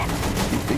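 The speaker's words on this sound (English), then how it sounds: "Use the machine gun then, not the cannon." Machine gun fire from the video game Saints Row The Third, a dense continuous burst over a short span, with a voice talking over it.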